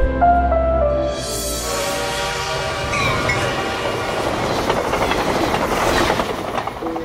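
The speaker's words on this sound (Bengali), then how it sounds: "অনেক দূরে কোথাও ট্রেন যাওয়ার শব্দ শুনতে পেল" A distant train rolls past as a drama sound effect, a steady rumble and clatter of wheels on rail that holds throughout without any voices.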